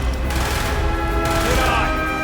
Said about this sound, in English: Shoot the support beam!